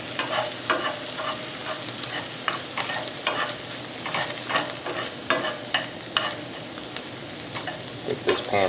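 Seared venison stew stirred in a hot pan, a continuous sizzle and frying hiss broken by repeated scraping strokes of a utensil against the pan, close and steady throughout.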